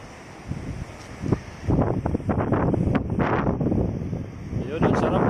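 Wind gusting across a seaside view deck at Paraiso Victoria in Alaminos City, Pangasinan, a steady rushing roar with buffeting bursts against the microphone, and people talking throughout.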